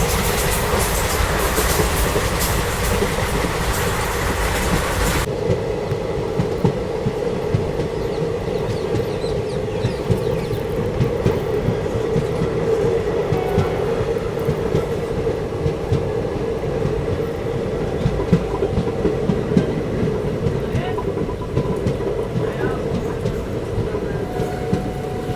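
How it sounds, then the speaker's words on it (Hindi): A passenger train, not an LHB coach set, runs at a steady speed of up to 110 km/h on an Indian route, giving a continuous loud rumble with rhythmic clickety-clack of wheels on rail joints from inside the coach. "पर आवर की स्पीड लगातार मेंटेन किए हुए है अभी अपनी ट्रेन"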